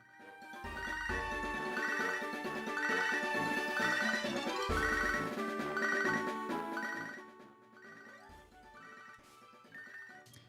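A phone ringtone from Pokémon SoulSilver rings in a bright, repeating electronic trill, loud and steady with several bursts, then softening toward the end.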